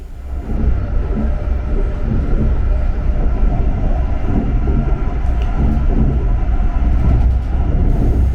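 Steady rumble of a Brightline premium train running from Miami to Orlando, heard from inside the passenger car as a continuous, loud, low roar with faint rail clatter throughout and no talking.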